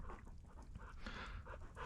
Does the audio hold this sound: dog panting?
yes